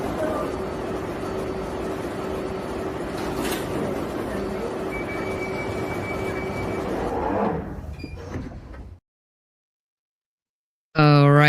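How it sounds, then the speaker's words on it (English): A London Underground-style train rumbles loudly and steadily as an intro sound effect, tapering off into near silence before a sharp, loud burst returns at the end. "Mind the gap between the train and the platform."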